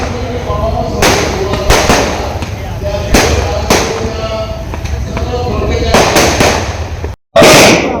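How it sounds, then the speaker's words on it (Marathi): Firecrackers burst at a New Year's Eve celebration party, a series of sharp loud bangs spaced a second or so apart over a busy crowd murmur, with a voice speaking nearby. "हे बघा इकडं फटाके फुटतात"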